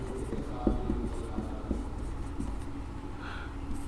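Chalk or marker strokes scratch across a board in short, repeated bursts during a lesson on special resistor types, close by and moderately loud over a steady background hum.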